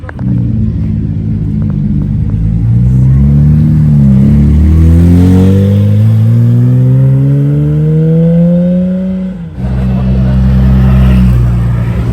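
A powerful car engine roars loudly and steadily in Dubai, its pitch climbing as it revs up, then briefly cuts off before rumbling back in, close by.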